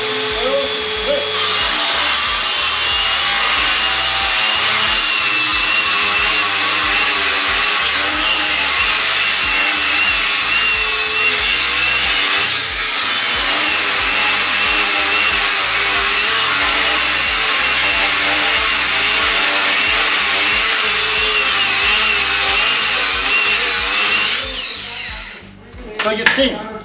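Two Hilti angle grinders, a NURON AG6D 22V and a 36-volt model, cut side by side in a loud, continuous high-pitched whine that runs steadily for nearly the whole stretch before cutting off.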